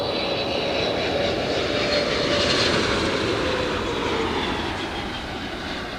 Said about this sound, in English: Speedbird coming in. 777-300 from London Heathrow.